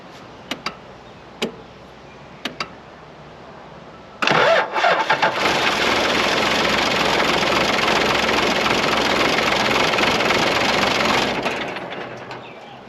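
A diesel Toyota Land Cruiser, left parked for years on a dairy farm, cranks and catches into a loud, steady run after a few quiet clicks, then cuts out and dies away after about seven seconds.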